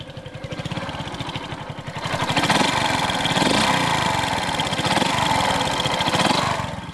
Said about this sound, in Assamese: একে কিকতে এইখন ষ্টাৰ্ট হৈছে